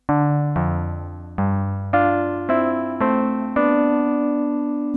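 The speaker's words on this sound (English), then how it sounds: "And now, when I have imported these piano samples into my Korg Volca sample," A sequence of piano samples plays back from a Korg Volca Sample, eight distinct decaying piano notes and chords struck one after another in a loose rhythm, clear and close, with no voices.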